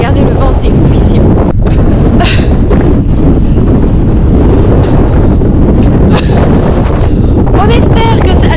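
Strong wind at Walvis Bay, Namibia, roars and buffets the microphone continuously and loudly, with people talking faintly beneath the gusts.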